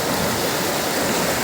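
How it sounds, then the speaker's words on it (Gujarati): Floodwater rushing across a highway in the Dwarka area after heavy rain, a steady, dense, loud roar of flowing water with no pauses and no voices. "પાણીનો પ્રવાહ જોઈ લ્યો તમે."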